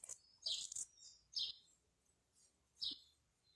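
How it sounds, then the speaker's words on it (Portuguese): Birds chirp from a wall and a tree in three short, high bursts separated by quiet gaps, sounding somewhat distant against a calm outdoor background. "os pássaros estavam no muro e aqui na árvore cantando um pouquinho"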